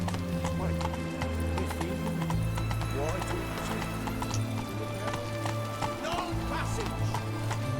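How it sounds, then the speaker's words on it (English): Horse hooves clip-clop steadily on a road in the video game The Witcher 3: Wild Hunt, close and continuous, with a brief whinny and a faint mechanical ratcheting, while a voice speaks over parts of it. "Whoa there, Roach."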